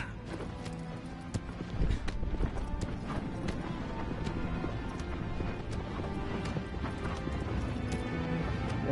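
Horse hooves clip-clop steadily at a gallop in Shadow of the Colossus remake while hunting the colossus Phalanx, continuous and fairly close, with occasional whinnies and a voice talking over the top.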